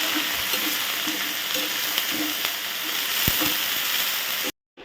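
Taro leaves fry in oil with garlic and chili, giving a constant close sizzle broken by occasional stirring clicks before cutting off abruptly at the end.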